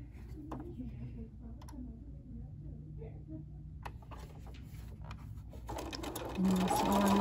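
A sewing machine stitching quilt pieces, a soft low whirring run with light ticking clicks, quiet and steady, rising louder near the end.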